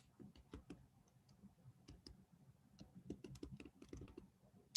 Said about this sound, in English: I'm going to type in my phone number on Google.